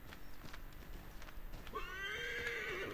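A horse in the video game Assassin's Creed 3 moves along with soft clip-clopping hooves, then gives one long, clear whinny near the end, with no talk over it.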